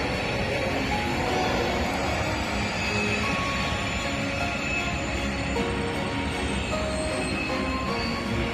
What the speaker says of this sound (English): Wow, it's a long train.